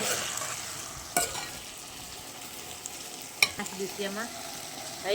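Eggplant frying in oil makes a soft, continuous sizzle, broken by a few distinct scraping and clinking knocks of a stirring utensil against the pan; no speech.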